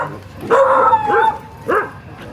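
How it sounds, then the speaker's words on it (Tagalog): Dogs on a beach bark and whine at close range, loud, in two or three short yelping bursts with a pause between. "Beach dogs."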